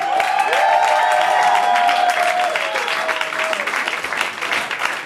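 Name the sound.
audience applause for a slam poet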